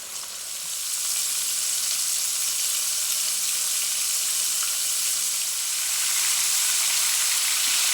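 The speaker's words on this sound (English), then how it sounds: "I'm going to begin to fry up each piece of steak" Steady, crackling sizzle of steak pieces frying in shallow oil, continuous and fairly loud throughout with no talking.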